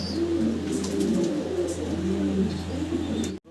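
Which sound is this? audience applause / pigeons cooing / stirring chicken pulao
pigeons cooing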